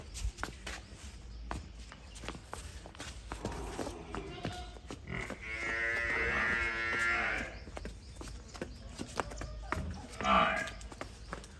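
A Nili-Ravi buffalo lets out a long, loud low moo partway through, among shuffling footsteps and scattered rustling, with a shorter call near the end.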